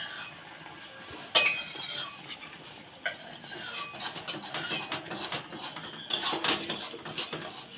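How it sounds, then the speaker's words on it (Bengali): Cashews, raisins and dates drop into a pan of sour okra chutney. Close metallic clinks and scraping stirs sound against the pan in irregular bursts, with no talking. "কাজু কিশমিশ আর খেজুরটা দিয়ে দেবো"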